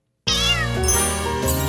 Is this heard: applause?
no